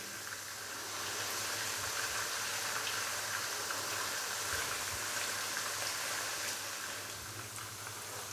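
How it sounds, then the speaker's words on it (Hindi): A steady, hissing sizzle of ginger garlic paste frying in oil runs throughout, even and close, with no talking. "अदरक और लहसुन के पेस्ट को हल्का सा फ्राई कर लेंगे।"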